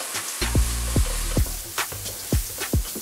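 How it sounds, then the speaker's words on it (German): Lentil bolognese ingredients sautéing in a pan in a school kitchen, a steady sizzle punctuated by about six sharp clanks or stirring knocks spaced roughly half a second apart, close and clear with no talking. "dann können wir das Ganze in der Pfanne anschwitzen"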